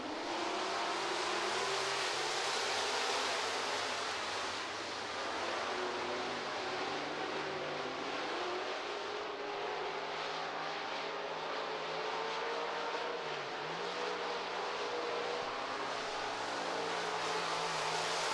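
Late model street stock race cars roar together at the green flag of an eight-car heat race at I-90 Speedway, a loud, sustained engine howl with rising and shifting pitch as the pack accelerates, heard from a distance without talking.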